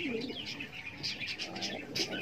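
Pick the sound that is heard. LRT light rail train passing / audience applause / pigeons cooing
pigeons cooing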